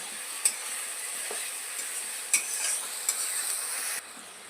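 A paste of prawn and pointed gourd fries with onion and garlic in a steady, bright sizzle. A few sharp spoon clicks break through it before the sizzle suddenly fades down.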